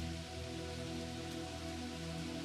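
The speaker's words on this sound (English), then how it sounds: "it begins to sprinkle, a few fed raindrops landing on the soil or water" Light rain sprinkling onto soil and water, a soft, even patter of raindrops that holds steady and continuous, fairly quiet and close with no other sounds.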